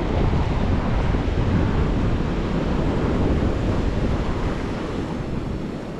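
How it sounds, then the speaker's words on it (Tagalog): Heavy surf pounds and roars steadily against the rocks at a coastal fishing ledge in Avoca, with broad wind buffeting the microphone throughout and no voices. "Malaki alon."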